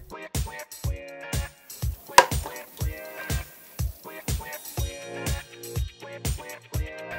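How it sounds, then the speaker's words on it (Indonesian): A knife slices sausage on a cutting board for oblok-oblok, about a dozen crisp evenly spaced chops in a steady rhythm, close and clear, with no speech. "Tinggal iris sosis secukupnya."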